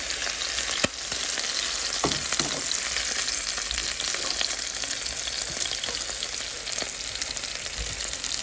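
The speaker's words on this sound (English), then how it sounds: "we're going to cook them on each side for about 5 minutes a piece on each side" Stuffed chicken breasts frying in a pan give a steady, close sizzle with occasional clicks and a sharp knock near the start, and no talking.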